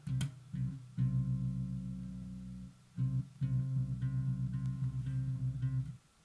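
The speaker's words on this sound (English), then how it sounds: "So that's your major 9th." Two guitar notes ring out together as a sustained major ninth interval, played twice with a short gap, clean and fairly soft.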